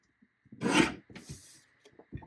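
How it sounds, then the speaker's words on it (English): A paper trimmer slices through scrapbook paper, a 5 1/4 inch piece turned vertical and cut at the 3 inch mark. Close up, it makes two short rasping strokes in quick succession, with a few light taps and no talking. "Now leave that 5 1/4 inch piece in the trimmer and rotate it so it's now vertical. Let's trim it at 3."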